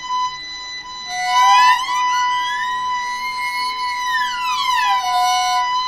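A string instrument plays a siren glissando practice exercise. A single smooth pitch slide climbs slowly, holds, then glides back down, clear and fairly loud over a steady sustained tone.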